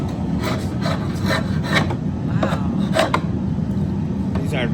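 A dull draw knife scrapes across wood held in an old barn vise, in a series of close, rasping strokes that are uneven and fairly loud over a steady low background.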